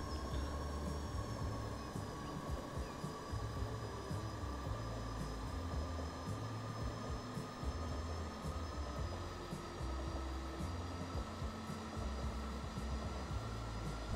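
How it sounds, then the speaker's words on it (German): A train in the video game Transport Fever rumbles steadily at speed with a low mechanical drone, while faint rhythmic clicks of wheels over rail joints repeat throughout; no one speaks. "Hört ihr dieses kleine Tatatat der Schienen? Klingt richtig gut."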